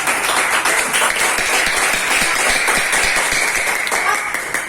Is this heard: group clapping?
yes